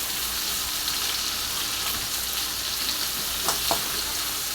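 Onion and ginger sizzle steadily in a frying pan as they are stirred, a dense continuous hiss with a few soft spatula scrapes near the end.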